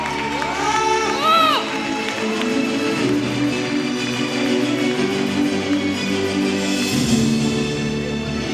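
Crowd at the Pehchaan Awards applauding and cheering as award winner Nikita comes on stage, a steady loud wash of clapping and shouts with children's voices mixed in throughout.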